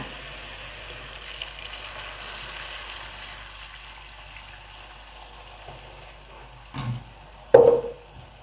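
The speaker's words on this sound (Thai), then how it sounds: "ใส่ซอสลงไปในกระทะแล้วก็ผัดพอหอมจ้ะ" Sauce sizzles in a hot wok with soft steady stir-frying for Pad Mee Korat, ending with a few louder clanks of a utensil against the wok.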